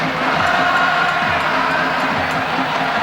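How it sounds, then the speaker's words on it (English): A large crowd of Spanish and Brazilian fans cheering and chanting in unison at a 1996 futsal world championship final, a loud, steady roar of massed voices that fills the arena. "Spaniards in the crowd trying to out-sing the Brazilians."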